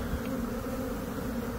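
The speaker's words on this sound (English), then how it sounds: "And bees are surrounding it." Bees swarm around a honey-filled nest cut open inside a bathroom vent, their steady, faint buzzing droning on without a break.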